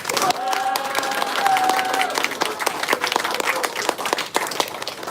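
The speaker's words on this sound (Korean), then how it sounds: "여러분들의 큰 함성과 박수로 시작하도록 하겠습니다" Loud applause from a crowd at a local election candidate debate with scattered cheers, continuous sharp clapping filling the space while a held tone fades early on.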